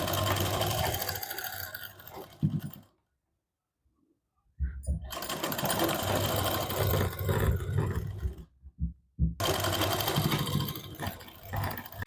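A sewing machine stitches a size 32 double katori blouse in bursts, a steady close whirring run that stops, restarts for a longer stretch, pauses briefly and starts again.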